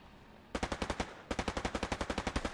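Automatic machine gun fire in the WW2 shooter Hell Let Loose, two loud rapid bursts of evenly spaced shots, the second longer and steadier, with no talk over them.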